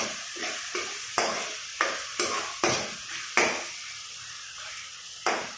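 Ground spices and cumin powder are stirred in a hot pan for palak paneer, with repeated sharp spoon knocks and scrapes against the pan, roughly every half second, over a soft sizzle.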